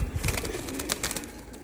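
Pigeons in a breeding and flying loft coo softly amid a busy, muffled background of fluttering and shuffling, close and continuous for a brief moment, with no voices.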